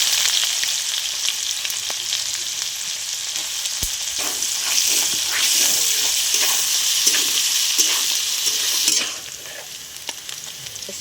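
Steady, loud sizzling of onions frying in oil, with occasional scraping stirs; the hiss drops somewhat near the end.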